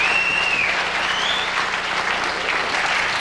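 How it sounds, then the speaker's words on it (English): A game show studio audience breaks into steady, sustained applause, a thick, even crowd of clapping with a faint whistle-like tone rising above it early on. "Give them a lovely big round of applause."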